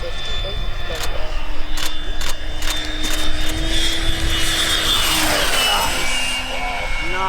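A homemade radio-controlled Citation M2 jet flying at its maiden flight, its turbine whine loud and steady near overhead, with a rising then falling pitch sweep as it passes.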